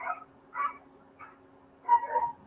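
A small dog barks and yips in several sharp bursts at a huge bull mastiff passing in the street, moderately close, with quiet pauses between the outbursts.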